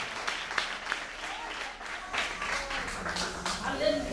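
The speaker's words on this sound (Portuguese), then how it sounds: "aplauda bem forte para Jesus" A church congregation claps strongly for Jesus during a service, applause mixed with voices and shouts throughout.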